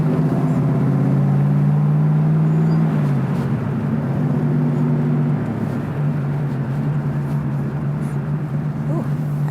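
A 1969 Chevrolet Camaro Indy 500 Pace Car in Dover white and Hugger orange cruises along, its engine a steady close drone that eases to a lower tone partway through, with cabin and road noise.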